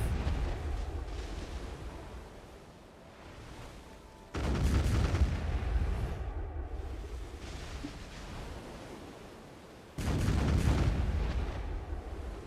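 Heavy cannon fire from a ship in the game Black Desert Online, with deep booming blasts at about 4 and 10 seconds, each followed by a long rumbling roar over a constant low wash like surf.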